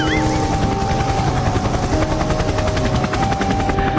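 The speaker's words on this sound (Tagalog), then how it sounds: "Buti na lang binilan ako ni Dad ng private helicopter." Loud, steady helicopter rotor thumping with a whining engine, continuous and close throughout.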